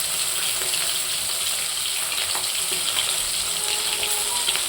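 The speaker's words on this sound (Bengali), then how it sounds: "ভাজা হচ্ছে।" Freshly caught pond fish, cut and cleaned, fry in hot oil with a continuous loud hiss and crackle that carries on evenly throughout.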